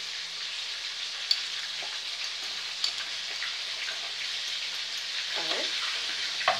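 Green and red chili and plenty of garlic sizzle in a hot frying pan for a spicy sauce, a constant bright crackling hiss dotted with a few sharp pops and stirring sounds.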